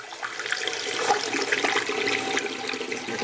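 7 Up flavour syrup pours and splashes steadily into the syrup tank of a manual soda machine, a continuous liquid gush close by with no talking.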